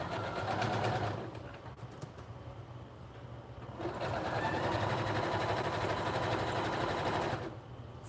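Sewing machine stitching through two layers of fur with white thread on a black backing, a loud steady mechanical whir running in two long bursts with a short slower pause between.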